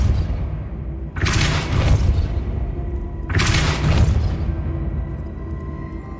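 Two heavy, booming magical blasts a couple of seconds apart, each with a rumbling tail, sound over a dense game background as the Depulso spell is cast in Hogwarts Legacy.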